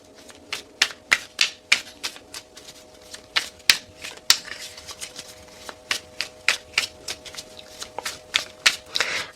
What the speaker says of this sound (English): I know everybody hates the shuffling.